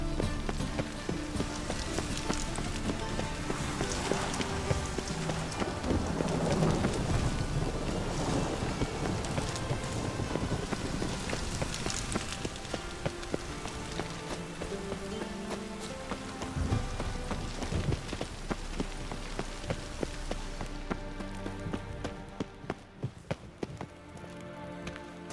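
Steady rain falls in The Witcher 3, a dense continuous hiss with wind layered in, carrying on unbroken before dropping away near the end.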